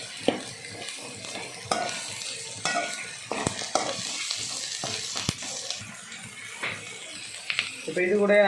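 Sliced shallots sizzle and crackle in hot oil for a pork curry while a spoon stirs and scrapes the pan in uneven bursts, with a person talking intermittently over the frying.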